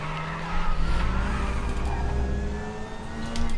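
A touring car in a racing video game skids under a brake lock-up, a sustained tire squeal over a steady engine drone, loud and continuous.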